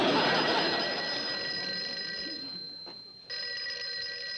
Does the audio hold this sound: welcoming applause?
no